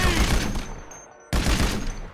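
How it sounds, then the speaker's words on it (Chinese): Machine gun fire in the GTA 5 zombie mod: a loud, dense automatic burst that fades out, then a brief pause before a second rapid burst kicks in. "我拿机枪来扫了"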